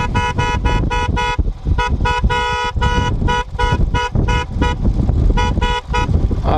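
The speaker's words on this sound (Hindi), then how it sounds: "इसलिए हॉर्न बजाता हुआ चल रहा हूँ, ताकि उसको मेरी आने की पता रहे।" A car horn honked again and again on a Himalayan mountain road, loud close toots in rapid bursts and short pauses over the running vehicle's engine rumble.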